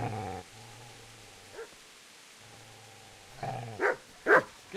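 A dog in the medieval video game Kingdom Come: Deliverance growls low and steadily, then breaks into a few sharp, close barks, with no talking over it.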